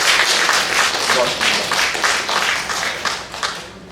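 Dense, steady applause from a church congregation at an anniversary service fills the clip, with a voice speaking briefly over it before the clapping thins toward the end.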